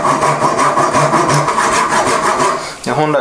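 A handsaw rips lengthwise along the grain of a wooden spoon blank, its thick blade rasping in a steady back-and-forth rhythm of close, loud strokes that pause briefly near the end before resuming.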